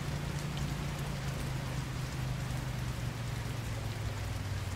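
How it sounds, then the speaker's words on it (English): Rain pours steadily in the My Garage car game, a constant dense hiss with a low droning hum underneath, unbroken and even from start to finish with no voices. "Friggin' rain."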